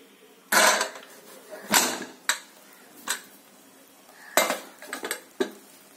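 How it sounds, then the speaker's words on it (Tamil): Metal pot and lid clanks as a stove is switched off and the lid lifted on sambar rice: several separate sharp clinks and rattles, close and clear, with quiet gaps between. "இப்போ ஸ்டவ் ஆஃப் பண்ணிட்டு மூடியை திறந்து பார்க்கலாம்"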